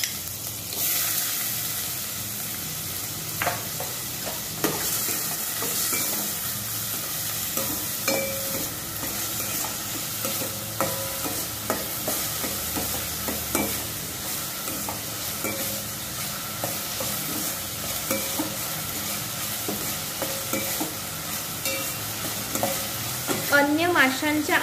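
Finely chopped onion sautés in two spoons of hot oil for a Malvani prawn curry, a continuous low sizzle with frequent scraping and knocking of a spoon stirring the pan, close and steady with no talking.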